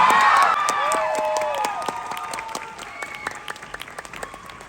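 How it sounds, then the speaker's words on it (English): A large San Diego Comic-Con audience applauds and cheers with shouts and whoops, loud at first and then thinning into scattered claps, with a voice briefly calling out over the crowd. "Let's give an extra round of applause for them."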